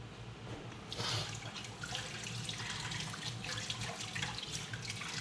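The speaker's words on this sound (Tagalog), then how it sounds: "Lagyan kong konting tubig." Tap water running into a cooking pot in a New York City kitchen, a faint steady gush with splashing that swells after the first second and continues alone.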